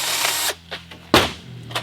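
A drill bites into a catch can in short bursts, a few brief grinding whirs with pauses between, near and fairly loud with no talking.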